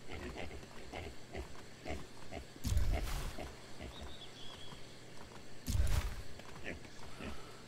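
Pigs in the survival game Atlas grunt and oink intermittently at moderate distance, with two louder bursts of movement breaking up a steady low background.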